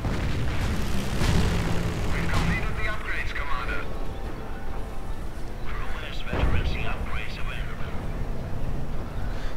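In a Company of Heroes battle, Calliope rocket artillery sets off booms and bursts that thud through a busy mix of gunfire, under continuous commentary.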